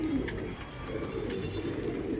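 A breeding pair of old-lineage pigeons coos softly, with low, rolling calls repeating under faint background noise.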